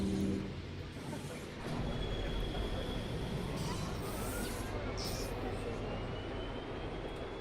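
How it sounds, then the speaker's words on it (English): A train passes through a theme park in the Planet Coaster game, a steady low rumbling drone with faint rising whistle-like tones overhead, fairly quiet and continuous. "got the train going through"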